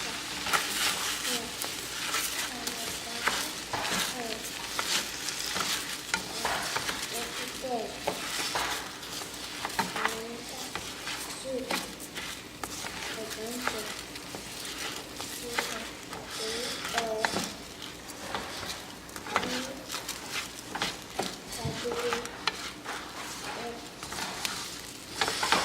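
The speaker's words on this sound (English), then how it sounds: "And we're gonna stir it around," Yellow veggie rice sizzles in a pot while being stirred, with a continuous frying hiss broken by repeated scraping strokes of a spoon against the pot. A voice talks briefly over the cooking.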